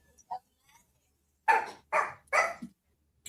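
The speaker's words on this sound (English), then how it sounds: "That dog sounds like a squeeze toy." A small Yorkie-type dog gives three quick, high yappy barks close by, with a couple of faint yips before them and no talk.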